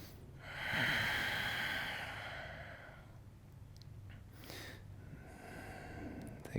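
A yoga practitioner takes a slow, audible breath during a gentle flow session, a soft airy inhale rising and fading over a couple of seconds, followed by quieter breathy rustle, close and alone without talk.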